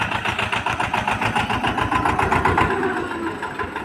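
A tractor engine runs in a field with a steady, rapidly pulsing mid-low chug that stays even and fairly loud throughout, with no voices.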